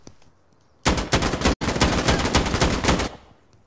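Rapid automatic gunfire from a rifle in the shooter game Insurgency Sandstorm: a loud, close, sustained burst of fast shots, broken briefly by a split-second gap before the firing resumes and then abruptly stops.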